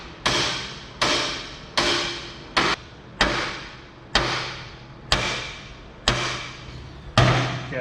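A hammer strikes a New Holland tractor part eight or nine times in a slow, steady rhythm, each sharp metallic knock ringing briefly before fading, close and clear with no talk.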